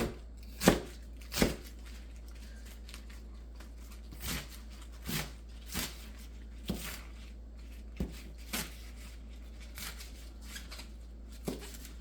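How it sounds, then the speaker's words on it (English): Knife taps of chopping bok choy on a board, about a dozen sparse strokes at an uneven pace, fairly quiet over a low steady hum. "now I'm just back to chopping up the bok choy"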